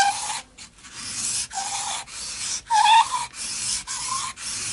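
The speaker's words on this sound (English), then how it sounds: "A little bit, tiny bit more surface sanding." Surface sanding on a Hofner archtop acoustic guitar being refurbished: a series of short, close scratchy rubbing strokes in an irregular rhythm, with brief pauses between passes and no talking.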